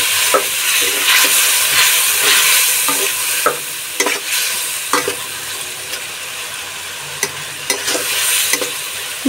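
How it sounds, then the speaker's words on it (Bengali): Raw banana kofta curry stirred in a sizzling pan, with repeated sharp scrapes of a spatula over a steady close frying hiss, no voices. "ভালো করে নাড়াচাড়া করতে হবে"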